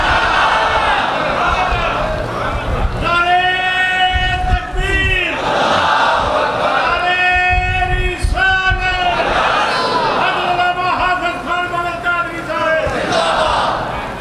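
A large crowd at a religious speech chants slogans in loud, rhythmic call-and-response bursts, voices swelling together repeatedly over about fourteen seconds with continuous crowd noise between the chants.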